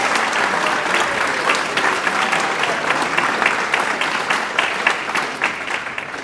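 Audience at a Farmington High School orchestra concert gives a loud, sustained round of applause, dense clapping filling the room evenly from start to finish.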